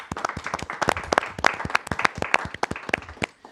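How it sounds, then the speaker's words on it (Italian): A small audience on an Italian talk show applauds, with distinct individual claps clearly audible in an irregular patter that holds steady before thinning at the end. "Direi che facciamo un applauso."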